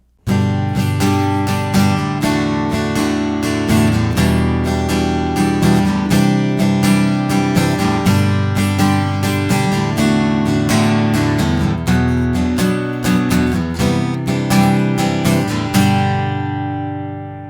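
Continuous guitar strumming in a rhythmic pattern fitted to a song, with steady, evenly spaced strokes played close and loud, ringing out alone and fading at the end.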